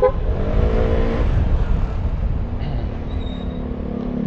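Yamaha Mio i125 scooter motorcycle carrying two riders, a steady, close engine and road rumble with wind noise throughout and no talking.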